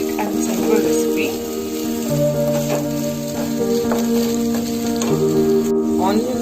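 Chopped onions and green chilies sizzling steadily in a hot pan for a methi potato dry fry, with a continuous close frying hiss while a tonal background melody plays throughout.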